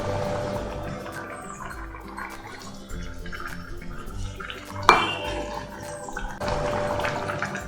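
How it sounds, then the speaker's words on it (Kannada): Tempering poured into a pot of boiling bisi bele bath gives a brief sharp sizzle and splash near the middle, surrounded by close pot and utensil clatter and bubbling liquid, with no talk. "ಕುದೀತಾ ಇರೋವಂಥ ಬಿಸಿಬೇಳೆಬಾತ್ ಒಳಗಡೆ ಒಗ್ಗರಣೆ ಹಾಕ್ಕೊಳ್ತೀನಿ."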